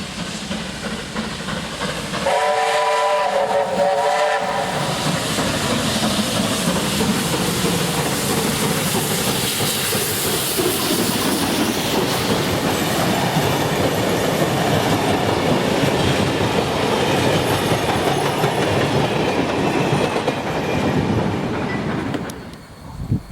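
Steam locomotive 3526 lets out a short whistle, then passes on the rails with a long loud rush of steam hiss, chuffing and clattering wheels that fades at the end.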